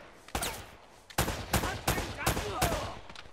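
Gunfire in the Uncharted 3 video game, a string of about five sharp, loud shots spaced irregularly over a few seconds, with no talking.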